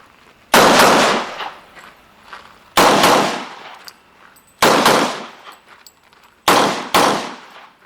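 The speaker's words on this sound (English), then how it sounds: "It's going to be 2 rounds. Boom, boom, right, boom, boom, left." Live gunfire at an outdoor shooting range: four loud, close bursts spaced about two seconds apart, each a rapid double shot with sharp cracks that ring out and decay into the quiet between volleys.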